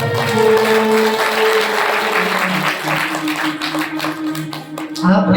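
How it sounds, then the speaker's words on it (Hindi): A crowd applauds steadily for several seconds at a religious storytelling gathering, the clapping dense and close, with a voice speaking over it. "आप एक बार अपने लिए जोरदार ताली बजाओ।"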